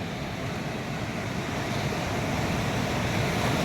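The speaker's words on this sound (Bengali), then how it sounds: "ওখান থেকে নেমে এই যে সমুদ্রে চলে এসেছি" Sea waves wash onto the beach at Vizag early in the morning, a steady broadband roar of surf that grows slightly louder toward the end, mixed with wind rumble on the microphone and no voices.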